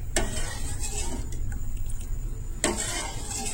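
Sabudana kheer with milk being stirred in a pot, a continuous sizzling, swishing texture broken by two sharp utensil scrapes at the start and near the end.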